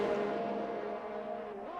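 Formula 1 race cars in the F1 2021 video game scream past during an overtake, a continuous high-pitched engine drone that shifts pitch near the end, loud and steady.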